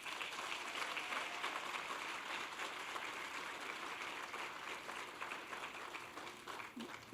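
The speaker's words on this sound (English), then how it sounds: "then you give a round of applause" An awards ceremony audience claps in a sustained round of applause, a steady, even patter of many hands heard from a distance at low volume.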